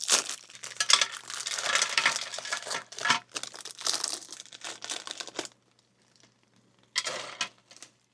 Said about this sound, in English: Let's open up some crackers.